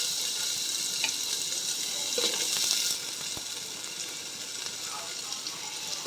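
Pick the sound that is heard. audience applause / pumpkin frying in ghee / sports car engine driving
pumpkin frying in ghee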